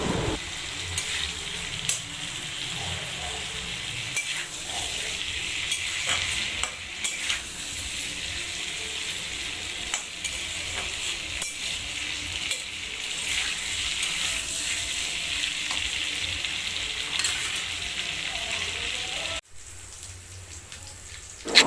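Potatoes fry in a pan after slit chillies, with a steady crackling sizzle and occasional stirring scrapes that hold for about twenty seconds before the sound drops away near the end.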